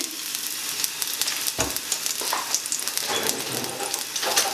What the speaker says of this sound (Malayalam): വെളുത്തുള്ളി ചെറുതായിട്ട് അരിഞ്ഞ ശേഷം നമുക്ക് ഒരല്പം എണ്ണയിലോട്ടിട്ട് വറുത്തെടുക്കാം